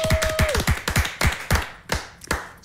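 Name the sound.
applause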